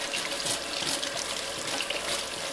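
Running water pours steadily from a tap as golf spikes are rinsed to loosen grass from the crevices, making a continuous close splashing hiss with no speech.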